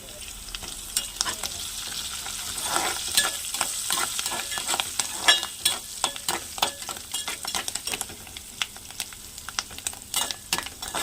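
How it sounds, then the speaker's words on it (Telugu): Ginger rice ingredients sizzle and fry in a pan while a utensil stirs them, giving steady close scraping strokes in an uneven rhythm over a continuous hiss, with no talking. "మనం దీన్ని కొంచెం ఫ్రై చేసుకోవాలి."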